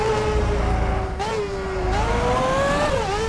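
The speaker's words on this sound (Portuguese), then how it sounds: "Motor Ferrari tinindo." A Ferrari V8 Formula 1 engine from the video game F1 2006 on PS2 at Monza screams at high revs, its pitch dipping briefly at a gear shift before climbing again, loud and up close with no talk.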